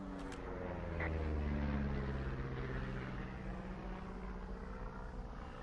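A steady low propeller-plane drone passing overhead in the video game Firewatch, a continuous rumble holding level throughout with no talk.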